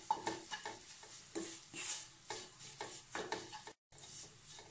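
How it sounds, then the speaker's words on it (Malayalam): Ground spices frying in oil for pepper chicken, heard as a soft, steady sizzle with repeated scraping stirs of a spoon against the pan at close range. "ഇനി നമ്മൾ പൊടിച്ചു വെച്ചിരിക്കുന്ന മസാലകളും ചേർക്കാം. നന്നായി എണ്ണയിലൊന്ന് മൂപ്പിച്ചെടുക്കണം."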